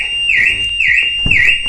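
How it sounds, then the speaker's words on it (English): A loud alarm on a 2017 Citroen Dispatch van wails close by in a repeating rising-and-falling tone, cycling about three times without pause, no voices present. "the alarm's gone off"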